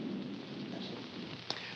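Low rumbling thunder with steady rain noise in a 1944 film noir mountain setting, a continuous distant roll with a brief sharp crack near the end, no talking.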